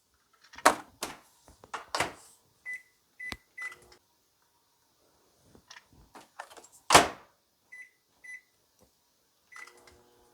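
Short electronic beeps of a microwave oven sound several times between soft clicks and thumps of its door or buttons, melting soap base in short bursts. Quiet stretches separate the bursts.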